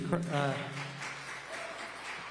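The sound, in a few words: audience applause at a debate in the Fox Theater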